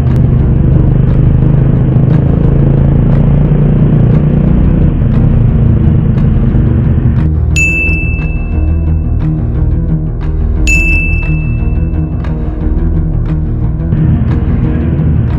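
A car engine rumbles in a traffic jam, a loud, steady low drone inside the vehicle, joined midway by two short electronic beeps.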